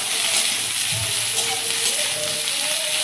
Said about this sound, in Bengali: ঝিঙেগুলো আমি হালকা একটু তেলে ভেজে নেব।